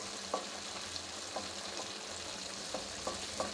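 Mixed winter vegetables, already boiled soft, being stirred in a pan with a spatula for a Bengali chorchori, giving a few soft scrapes and taps over a quiet low sizzle.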